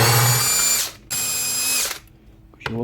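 A power driver backs screws out of a Paslode IM360Ci cordless nailer during a strip-down, with two loud, close whirring bursts of about a second each and a brief pause between them, followed by a short mechanical click.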